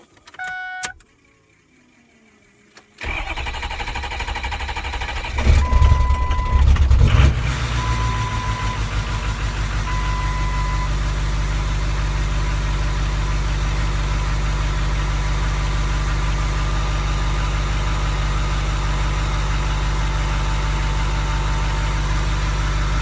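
A Ford 6.0L Powerstroke diesel with a long-crank problem is cranked, with a few beeps and clicks before it, catches after a rough surge, then settles into a loud, steady clattering idle.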